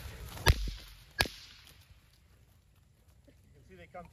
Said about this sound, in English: That's why I grabbed the whip.